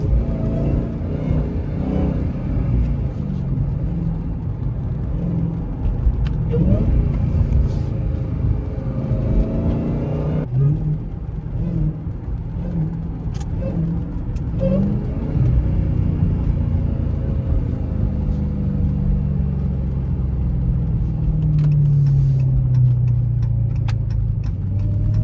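A Dodge Hellcat driving through snow after a downshift, its engine a loud, steady close rumble that rises and settles through the run, with tire and road noise underneath.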